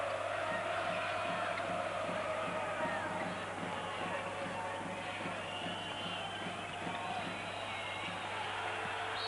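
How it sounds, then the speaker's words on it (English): The arena crowd at the 1991 EuroBasket semifinal between Italy and Spain roars in a continuous wash of noise, with a commentator talking over it. "you can hear the crowd's response"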